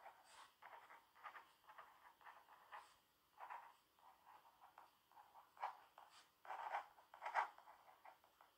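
A pen scratches out an address on the back of an envelope in short, quiet bursts of scribbling strokes separated by brief pauses, close and alone.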